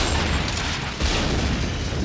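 A loud, sustained explosion from the film The Crow, a place being blown to bits, with a dense low rumble that roars steadily across the whole stretch without pause.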